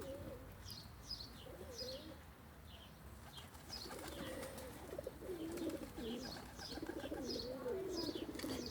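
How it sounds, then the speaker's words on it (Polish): Pigeons coo softly in a relaxed, repeating rhythm while wings flutter now and then, fairly faint against a quiet outdoor background. "a gołębie tak latają"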